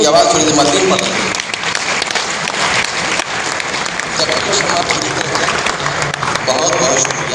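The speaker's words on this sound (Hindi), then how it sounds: "तालियों की आवाज़ थोड़ी देर मजीद पड़ रही है।" Loud, dense clapping from a seated crowd at an Urdu seminar and poetry gathering in Patna, continuous throughout with voices mixed in.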